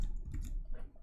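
A few soft, close computer mouse clicks in quick succession while selecting a file in a git interface, quiet over a low background hum.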